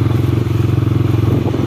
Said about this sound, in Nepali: हाम्रो दाइले चाहिँ चलाउनु भएको छ बाइक